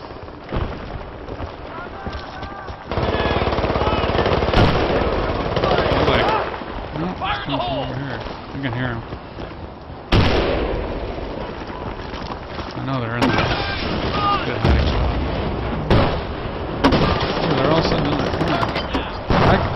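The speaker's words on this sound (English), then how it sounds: "I'm hearing firing." Sustained automatic gunfire and scattered shots in a military shooter game set in Arica Harbor, loud and continuous for most of the stretch, with bursts overlapping and players talking over it.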